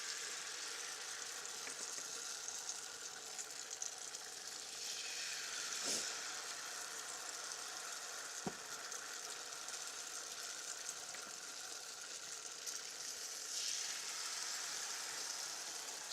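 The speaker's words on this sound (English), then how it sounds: "Sizzling sounds." Dough fries and sizzles in a pan during a winter stay in Finland, a steady soft crackling hiss throughout with a couple of brief clicks, faint and close, no talking.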